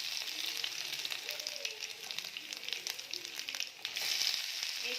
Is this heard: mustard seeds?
yes